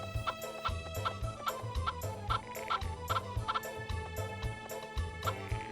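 Chickens clucking in the Harvest Moon 64 video game, a rhythmic series of short repeated clucks over looping game music with a steady bass pattern, moderately loud and without speech.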